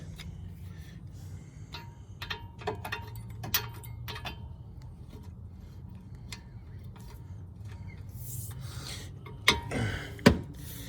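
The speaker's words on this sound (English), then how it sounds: "I'm going to use a breaker bar again because these are usually pretty snug" A breaker bar works loose the 17 mm brake caliper bracket bolts on a 2013-2017 Honda Accord, with scraping, ratcheting ticks and rubbing metal that end in two sharper knocks as the bolts give way.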